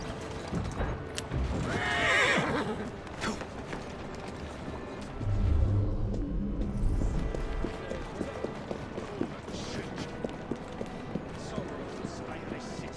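Horse-drawn carriages in Assassin's Creed Syndicate, with clattering hooves, a sharp whinny and rumbling wheels moving past amid busy street ambience.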